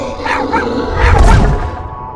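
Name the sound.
dog barking in a cartoon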